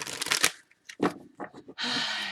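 Tarot cards being shuffled up close in several quick, crisp riffling bursts separated by short pauses, with a longer steady shuffle at the end.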